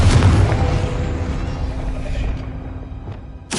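A Confringo explosive spell goes off in Hogwarts Legacy: a heavy boom at the start that rumbles and fades over a few seconds, followed by a sharp new burst right at the end.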